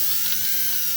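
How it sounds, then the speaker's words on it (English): Power drill with a 17/64 bit boring into a license plate screw on a 1996 Escort wagon, a steady high-pitched whine held close and loud for about a second. "I'm using the drill bit. It's a 17/64, and I'm just going to start drilling right into that screw"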